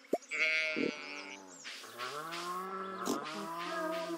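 Cow mooing in the farming game Stardew Valley, a drawn-out bleating moo with a second low call following, close and clear over quiet game background.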